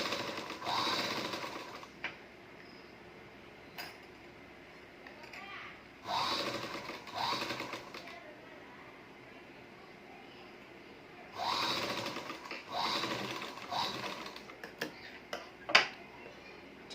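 A sewing machine stitches a blouse repair in several short bursts of rapid, even ticking, separated by pauses, with someone talking throughout.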